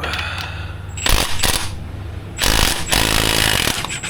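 An impact tool hammers loudly in several short bursts while removing a rear set bolt on a Honda Grom motorcycle, with ringing clinks and workshop pauses between the rattling runs.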